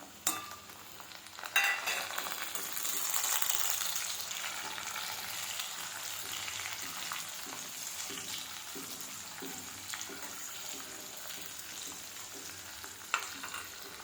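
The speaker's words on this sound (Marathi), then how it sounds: "कुटलेलं जिरं आणि लसूण टाकायचं हे फ्राय झालं का याच्यामध्ये टमाटर टाकायचे" Crushed cumin, garlic and tomatoes fry in a pan for a cauliflower curry, a steady close sizzle with scattered stirring scrapes and a louder clatter near the start.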